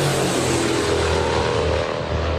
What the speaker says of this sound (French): Le bruit des hélices, elles sont 8 accrochées aux 4 moteurs de ce dinosaure désert.